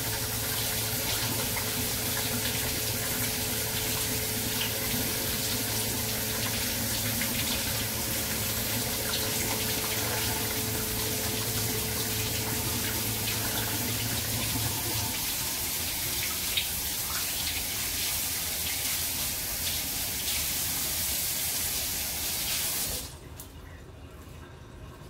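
Tap water runs steadily into a sink while roasted chiles are peeled under the stream, a continuous close splashing hiss that stops abruptly near the end.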